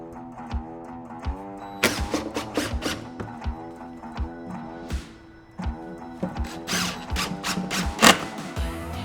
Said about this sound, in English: I'm gonna go ahead and do all of my pilot holes first